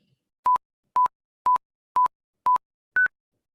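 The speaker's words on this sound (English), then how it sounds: "this rare sequence will start off the same way as the common sequences do, with 5 tones, but at the end, it will have a different ending" Five identical short electronic beeps at an even half-second pace, followed by a sixth beep at a higher pitch, clean and isolated against silence.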